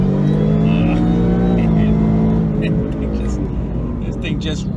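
A 2018 Mustang GT fitted with a Whipple supercharger accelerates hard, a loud close engine roar that rises in pitch and then eases, with someone talking over it.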